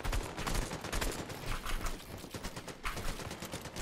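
Dense, continuous gunfire from a Fortnite match during an Eval Cup Opens tournament: rapid overlapping shots and bursts rattle without pause for about four seconds at moderate level, with no talk.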